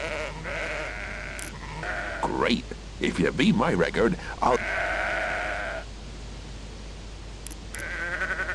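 Sheep bleat in the video game Sudeki during a herding task with Eriskillian long-hair sheep, several wavering calls rising between stretches of game music, while someone talks over part of it.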